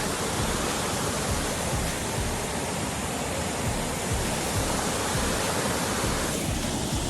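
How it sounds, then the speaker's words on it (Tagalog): Naipina Falls pours in a dense, continuous roar of rushing water, loud and close, steady throughout without pauses or voices. "Naipina Falls."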